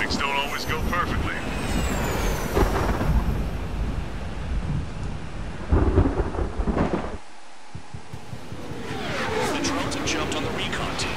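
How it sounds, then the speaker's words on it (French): Thunderstorm in Ace Combat 7 with heavy rumbling thunder and crackling bursts over a steady wash of rain and aircraft noise, broken by a brief silent gap before the storm swells again, with talk over parts of it. "ça me fait peur un peu les éclairs là quand même"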